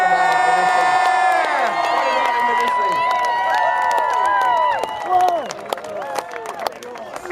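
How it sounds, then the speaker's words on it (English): Crowd at a Sydney Swans gathering at Lakeside Oval cheering, with whistles and sustained shouts from children and adults, loud and close at first, then easing into scattered calls and claps. "let's give a special cheer."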